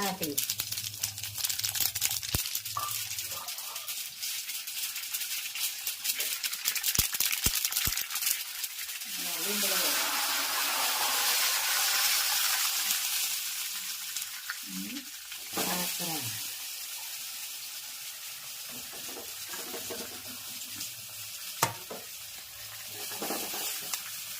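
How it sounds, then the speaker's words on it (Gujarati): Patra, rolled colocasia leaf slices, sizzle and crackle as they are tempered and stirred in hot oil, a steady frying hiss with occasional scraping and voices talking nearby. "સરસ મજાના પાતરા વઘાર ચાલુ થઈ ગયો છે"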